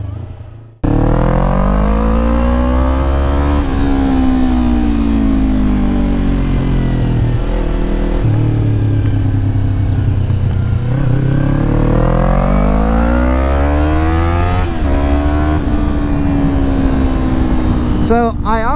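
A first-generation Yamaha R3 motorcycle being ridden, its engine loud and close, revving up through the gears in repeated rising sweeps with brief dips at each shift, steady under the rider's talk.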